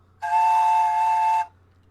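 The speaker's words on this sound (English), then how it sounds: "You are not doing the slide whistle right." A slide whistle gives one loud, steady blast of about a second, its pitch held level with no glide, alone against a faint low hum.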